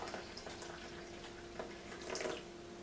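Tea poured from a pot into a cup, a short, quiet stream of liquid with gentle trickling and splashing close by, no talking.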